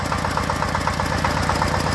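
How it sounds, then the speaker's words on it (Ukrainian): A homemade tractor's newly replaced engine runs at idle, a steady mid-pitched chugging with a fast, even knocking pulse, loud and close with no talking. "Поставили вже мотора, завели, запустили."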